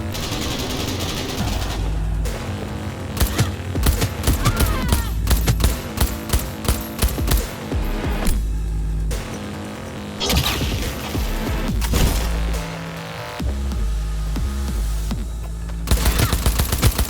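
Gunfire rattles through a Cyberpunk 2077 firefight on the Corpo life path, rapid automatic bursts and sharp single shots in repeated volleys, loud and close, with brief shouted voices.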